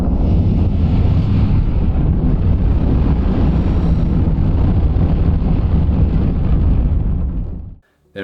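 The boost sound of a new engine in the X4 space game is a loud, sustained roaring rush, like a heavy wind-swept burn, that holds steady for several seconds before cutting off abruptly near the end.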